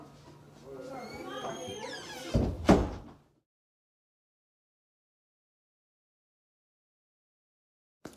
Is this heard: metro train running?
no